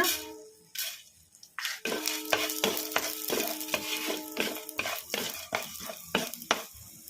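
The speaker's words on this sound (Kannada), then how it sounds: "ಅದಕ್ಕೆ 1 ಸ್ಪೂನು ಎಣ್ಣೆ ಹಾಕಿ ಇಟ್ಟಿದ್ದೀನಿ. ಎಣ್ಣೆ ಕೂಡ ಬಿಸಿಯಾಗಿದೆ. 1-2 ಸ್ಪೂನು ಧನಿಯಾ ಹಾಕೋಣ." Coriander seeds dropped into hot oil in a kadai crackle and sizzle, with a run of sharp clinks and scraping stirs from a spoon against the pan, loud and close, with no one speaking.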